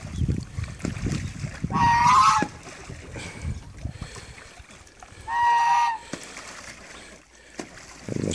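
Geese and Muscovy ducks: geese honk loudly in two short bursts amid sloshing, splashing water and scattered flapping close by.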